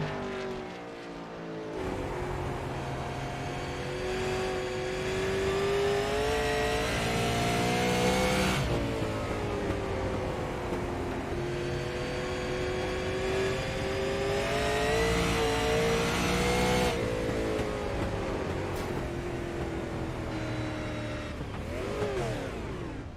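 Race car engine heard from onboard during a night short-track event, loud and continuous, with harmonic revs climbing and falling through shifts and a sharp drop near the end.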